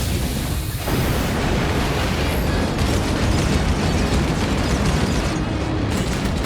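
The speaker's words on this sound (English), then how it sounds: "Here goes a grenade." A grenade blast in the video game Synduality: Echo of Ada, a dense roaring rumble that fills the whole stretch at steady high loudness with no speech.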